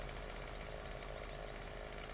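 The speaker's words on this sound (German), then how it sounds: "So, Kettensäge hier haben wir hier." A chainsaw runs at a steady high drone while felling a tree in the farming game Landwirtschafts-Simulator 15, loud and constant with no talk over it.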